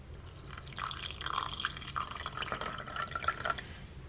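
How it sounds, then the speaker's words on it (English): Moon water poured over a Feng Shui salt cure with pennies for the Lunar New Year, giving a light, irregular trickle and drip of liquid into a glass container, fairly close and faint, with no talking. "And this one we're going to top with moon water."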